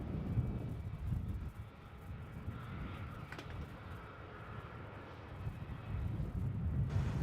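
A Qantas airliner takes off from runway 34 at Melbourne Airport, heard as a distant, steady low engine roar mixed with gusty wind buffeting the microphone.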